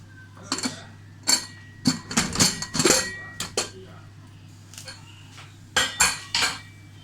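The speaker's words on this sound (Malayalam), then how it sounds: "കുക്കറിൻ്റെ പ്രഷറൊക്കെ പോയിട്ടുണ്ട്. ഇത് നമുക്ക് ഓപ്പൺ ചെയ്യാം." Metal clanks and clinks in a series of sharp, close hits as a depressurized pressure cooker holding crab curry is opened, with a steady low hum underneath.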